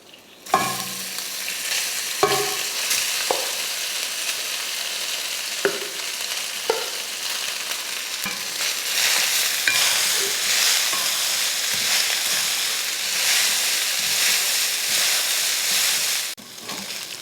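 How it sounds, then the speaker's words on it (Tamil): Pepper rice being stirred in a kadai over a low flame, a continuous close frying hiss with scattered scraping strokes of the ladle, growing slightly louder midway, with no talking. "இப்போவும் சாதம் போட்டு கிளறப்போ கூட அடுப்பை வந்து சிம்மில் வச்சுட்டே கிளறுங்க."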